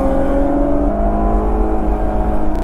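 A 2023 Nissan Z Nismo drives on a race track, its engine note holding a loud, steady drone with a slowly rising pitch as it pulls through the whole stretch, with no talking.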